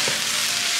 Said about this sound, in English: So now we're just gonna pretty much saute until the mushrooms are done.